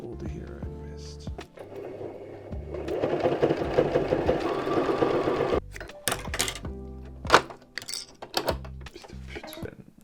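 A sewing machine stitches fabric for an upcycled Paul Smith jacket, running in rapid mechanical bursts with a sustained whirring run in the middle, broken by clunks and pauses between short stitching runs.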